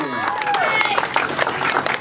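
Audience applause and cheering at a fishing tournament weigh-in, dense clapping from a crowd throughout, with voices and an announcer talking over it.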